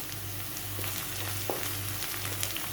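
Green chillies frying with reddish onions in a pan for a prawn masala, a soft continuous sizzle with a faint low hum and occasional clicks from stirring.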